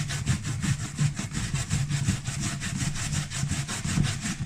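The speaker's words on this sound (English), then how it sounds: "So what we'll do first is we'll grate some beet here." A large beet rubbed over the fine side of a hand grater, a steady rhythmic rasping scrape repeating several times per second, close and moderately quiet, with no talk.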